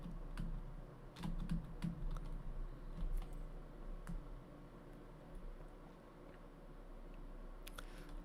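Keys clack on a computer keyboard in quick, uneven bursts, faint and close, over a low steady hum with no voices.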